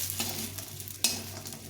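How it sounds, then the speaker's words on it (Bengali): Small lentil dumplings (bori) frying in hot oil in a pan, giving a steady close sizzle throughout, with a louder scrape or stir near the middle. "বড়িগুলো ভাজা হয়ে গেছে"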